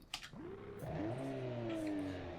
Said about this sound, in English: Give it a couple revs of the gas here.